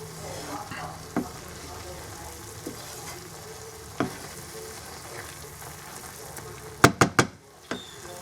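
Chicken tikka stirred in a pan makes a steady low sizzle, broken by occasional spoon scrapes and a quick burst of sharp clatters near the end, with no one talking.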